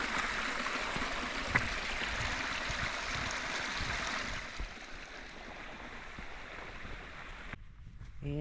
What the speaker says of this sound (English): a little creek crossing